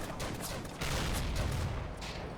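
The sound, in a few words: gunfire in the video game Combat Mission: Afrika Korps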